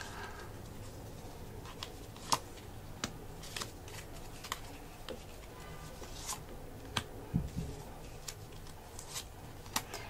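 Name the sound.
playing cards being laid and overlapped on a table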